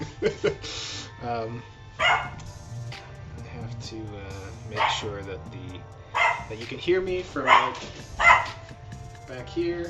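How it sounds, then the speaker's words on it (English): Dogs bark and yip intermittently in the background, somewhat distant, while a person talks over them throughout. "let me know if you can hear my dogs barking."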